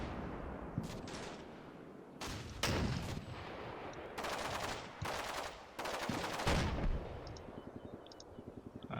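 Gunfire and blasts in the video game Combat Mission Shock Force 2, a 60mm mortar among them: repeated heavy booms and bursts of rapid rattling fire, loud and close, with rumbling decay between shots.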